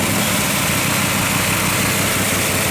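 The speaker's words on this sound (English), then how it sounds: "Chevrolet created something extraordinary with the ZL1427, an all-aluminum race engine barely civilized for street use." An all-aluminum Chevrolet ZL1427 big block V8 race engine runs at a steady, loud idle, a continuous rough rumble with no pauses and no voices.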